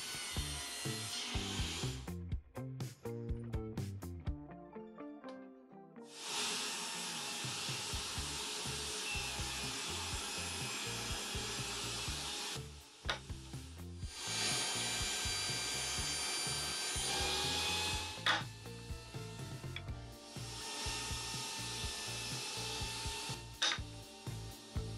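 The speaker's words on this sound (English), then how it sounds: "I cut the 10 degree sliding dovetail for the fence system at the table saw" A table saw cutting a 10 degree sliding dovetail in wood, starting with a few knocks and clatter, then long, loud, steady passes of a whining blade through the timber, broken by short pauses between cuts.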